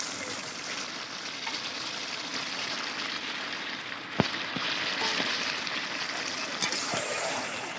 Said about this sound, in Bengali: মাংসটা দারুণ ফুটছে কিন্তু